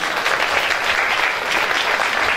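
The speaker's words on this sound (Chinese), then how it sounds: "来掌声来欢迎伊者" Steady audience applause at a children's Taiwanese-language culture camp, dense continuous clapping from a crowd welcoming a performer, held at an even level throughout with no talk over it.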